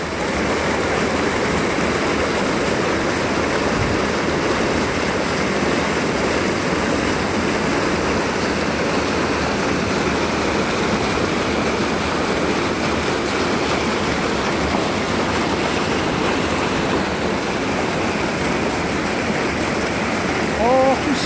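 Rushing snowmelt water at Sugar House Park in Salt Lake City, a loud continuous roar close by that stays steady and dense from start to end.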